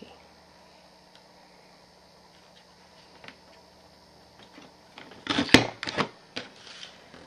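Paper is worked in a Fiskars border punch: a quiet stretch with faint small clicks, then a close cluster of sharp crunching snaps and clacks as the punch cuts, followed by a few lighter taps.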